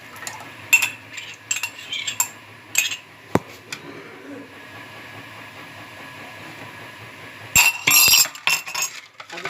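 A spoon stirs tartaric acid and sodium into homemade orange squash with scattered light clinks against a glass container, a sharp tap, and a louder cluster of clinking near the end.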